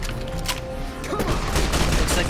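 Dense, continuous gunfire from Fallout: New Vegas, a loud rattling fusillade that builds over a couple of seconds with faint voice underneath.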